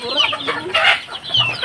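Chickens clucking loudly and close by on a rural farm, a busy run of overlapping clucks and squawks with a rooster-like call rising in the middle.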